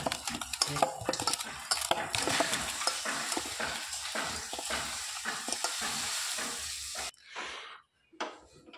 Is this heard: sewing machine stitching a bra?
no